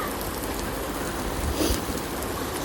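Onion and garlic sizzling in hot oil in a pan, a dense steady crackling hiss at moderate level without pause or talking.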